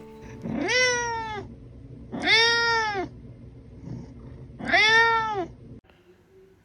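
A cat meows three times, each a clear drawn-out cry with short pauses between, close and fairly loud.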